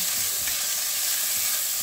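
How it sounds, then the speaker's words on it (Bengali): Onion frying in oil for a Bengali katla fish curry, a steady close sizzle with a fine crackling hiss holding evenly throughout without pause. "পেঁয়াজটা একটু ভাজা ভাজা হওয়া দরকার"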